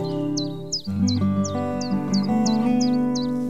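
Birds sing at morning in lush green forest near Jim Corbett, repeated short high chirps roughly every half second over a steady humming tonal background, fairly close and clear.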